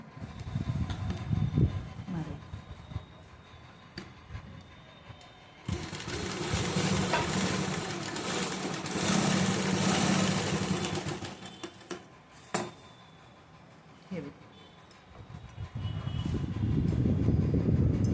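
A sewing machine stitches fabric pieces for a two-piece blouse cup in steady rapid bursts, with a long continuous run in the middle and shorter runs around it, and someone talks between the bursts.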